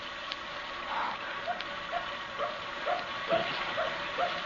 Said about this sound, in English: There's that dog again.